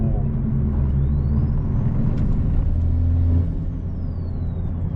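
Modified Toyota MK5 Supra with a T51R turbo conversion, heard from inside while driving: a loud, steady engine drone with a rising turbo whistle that climbs as it spools, then eases off near the end.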